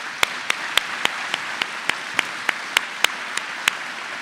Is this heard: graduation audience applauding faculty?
yes